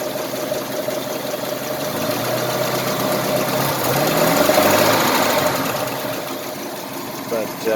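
A 1949 Packard Super Eight straight-eight engine, a barn-find survivor, idles smoothly and steadily for several seconds, heard fairly close with an even mechanical hum and a slight swell in the middle.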